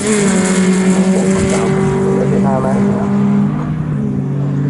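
Race car circulating at Donington Park during a Sports Specials championship race, steady loud engine drone with a shifting pitch as it passes, under continuous commentary.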